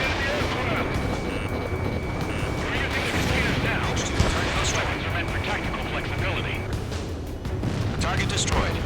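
Anti-aircraft guns pound away in an Ace Combat 7 mission, dense and continuous booming layered with jet and engine rumble, while voices talk over radio throughout.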